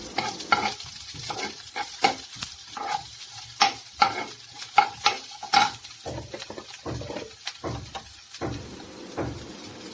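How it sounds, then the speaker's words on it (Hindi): Finely chopped onion frying in a pan is stirred briskly, with repeated scraping and clinking of a spoon against the pan over a continuous sizzle. "अभी इसमें हमने बारीक कटा हुआ प्याज को डाल देंगे"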